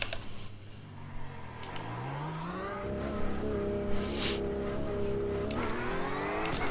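A Porsche GT3 race car engine in the iRacing sim climbs steadily in pitch as it revs hard through the gears, a loud, close, sustained mechanical whine with tire noise underneath.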